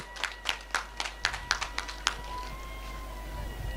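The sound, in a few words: audience clapping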